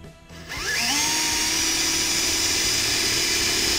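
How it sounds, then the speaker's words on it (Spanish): A power drill opens holes for a homemade four-injector cleaning rig, spinning up with a rising whine and then holding a loud, steady high-pitched drone, close by and with no talk. "Voy a empezar a abrir los agujeros."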